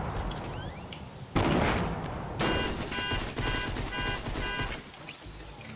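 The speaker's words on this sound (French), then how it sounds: "Ça tire de ouf les amis." Gunfire rattles in a Fortnite Battle Royale match, dense bursts of shots and impacts layered over game sounds, loud and close with several separate volleys.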